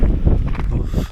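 Strong wind buffets an outdoor microphone in a steady, loud, low roar with gusty swells throughout, no voices present.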